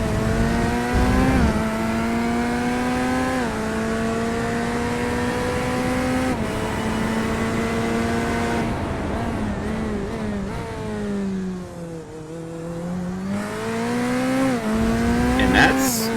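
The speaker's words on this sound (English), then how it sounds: "Elliot Burton, first driver out on his hot lap" A GT3 race car in a sim racing game takes a hot lap at Spa, its engine loud and steady as it climbs through gear after gear, with pitch dips on each shift and a long deceleration before revving back up.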